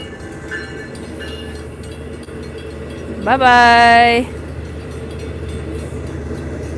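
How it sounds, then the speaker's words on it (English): A train passes, marked by one loud, sustained horn blast of about a second over a steady low rumble of rail traffic. "There's the train. I gotta wait now."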